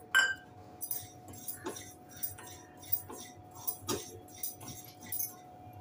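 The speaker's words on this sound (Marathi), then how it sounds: "आता आपण तीळ भाजून घेऊया." Sesame seeds dry-roasting in a pan for sugar-free dink laddoos, a close, faint scattering of light clinks and scrapes as the seeds are stirred, repeating irregularly with a quiet hum underneath.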